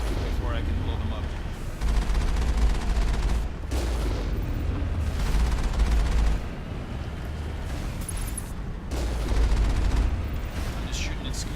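Sustained weapon fire and heavy blasts from Mass Effect combat against turrets while bringing down the sky, loud and dense throughout with rumbling booms that swell and fade in waves.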